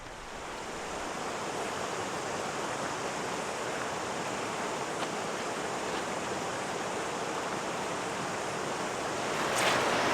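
A river rushing through a canyon on New Zealand's South Island, a steady broadband roar of flowing water heard close and continuous, with a slight swell at the end.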